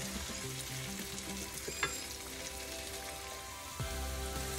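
Potatoes and mushrooms sizzle in an oiled pan while being stirred for a mushroom potato curry, a steady close crackling fry with occasional scraping clatters from the stirring.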